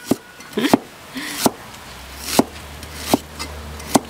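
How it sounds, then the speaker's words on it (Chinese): A knife chops purple ginger on a cutting board in sharp, close thuds, about eight uneven strokes with short gaps between, loud and alone. "切姜"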